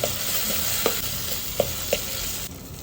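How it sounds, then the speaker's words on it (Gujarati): Turmeric being stirred into potato curry in a pan, a steady soft sizzle of frying with a few sharp scrapes and clicks of the spoon against the pan. "અહીં આપણે થોડી હળદર એડ કરશું ત્યારબાદ તેને સરસ આપણે મિક્સ કરી દઈશું"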